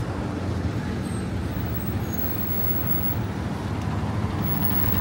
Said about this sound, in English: I'm not sure what the deal is with this traffic right now.